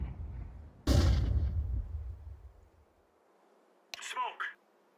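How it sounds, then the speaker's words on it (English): A flashbang grenade bursts in a competitive shooter match, one loud blast with a fading tail, followed moments later by a player's voice calling out. "Flashbang."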